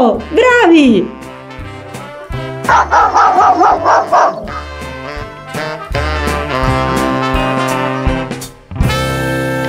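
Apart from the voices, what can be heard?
dog barking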